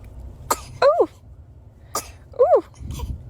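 A baby sneezes twice, each a sharp burst of breath followed by a small voiced squeak, close and clear over a low background hum.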